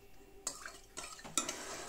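A spoon scrapes and clinks around a pot of water with agar-agar and sugar in a few quick bursts of stirring, fairly quiet and close, with no talking.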